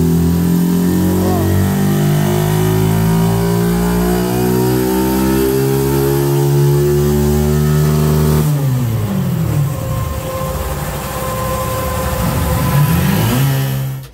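A motorcycle with a stock engine revs hard through the gears, its rising harmonic whine climbing steadily before a sharp cut and drop, then building again, loud and close with voices talking underneath.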